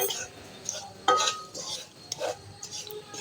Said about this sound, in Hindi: अब हम करेंगे पहले थोड़ी सी सूजी की भुनाई।